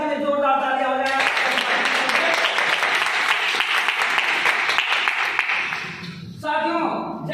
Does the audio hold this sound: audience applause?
yes